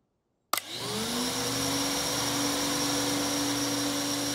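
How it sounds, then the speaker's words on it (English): Cartoon vacuum cleaner switching on with a sudden click, then running as a loud, steady motor whine with a rising tone that settles and holds without a break. "Now you can use the vacuum cleaner."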